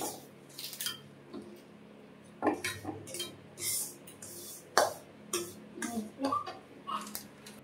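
A utensil stirs semolina frying in hot ghee in a pan, giving irregular close scraping and clinking strokes against the metal, with brief gaps between them.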